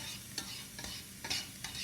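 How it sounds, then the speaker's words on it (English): Onions sweating in a hot pan for tikka masala, stirred now and then, give a continuous soft sizzle with a few brisk scraping strokes, close up, with no one talking. "now we're going to add our onions and sweat our onions so we can develop more caramelization"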